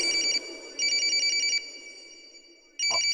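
A phone rings in repeated electronic bursts, loud and close, with pauses between rings and a brief sound at the end.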